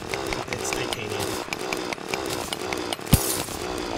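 A mithril or titanium drill runs continuously in the game Terraria, a loud steady buzzing whine with rapid pulsing texture and a sharp thump near the end.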